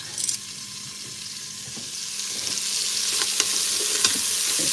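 Onions sizzle and fry in a pan with bacon fat and browned bits, a steady close crackle that builds gradually, with occasional scraping stirs and a few sharp pops.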